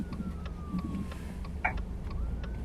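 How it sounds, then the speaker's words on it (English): A faint siren wails in the distance during a storm in the Texas Panhandle, its tone slowly rising and falling beneath steady traffic rumble. "I hear sirens."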